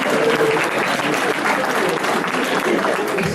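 An audience applauds with steady, dense clapping that fills the room at an even, loud level throughout.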